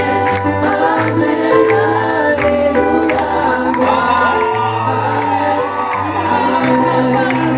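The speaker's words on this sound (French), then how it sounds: "On continue d'acclamer, de nous réjouir." Congregation at a baptism ceremony cheering and acclaiming, a dense, loud crowd roar with whoops and shouts running continuously throughout, voices layered over one another.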